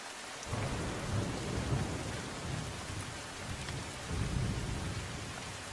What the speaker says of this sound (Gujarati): ધોધમાર વરસાદ વરસ્યો હતો